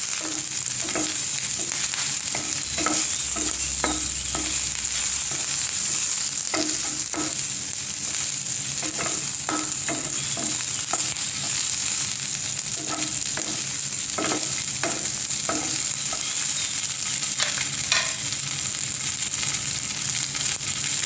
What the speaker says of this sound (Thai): เจียวน้ำมันค่ะ ใส่ไส้กรอกลงไปเลย